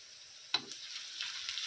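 Onions fried golden with garlic paste in a frying pan, sizzling softly at a steady low level with one sharp clatter as the paste is stirred in, then a light continuous hiss.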